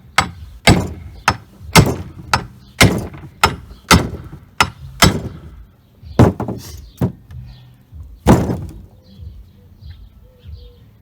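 Hammer blows on a Nova drag build's ball joints and spindles, a dozen or so sharp metallic strikes in uneven bursts, loud and close, with short ringing decays and a few quiet pauses between them.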